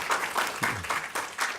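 A panel-discussion audience claps in a short burst, a few rhythmic pulses of moderately loud applause lasting about a second and a half.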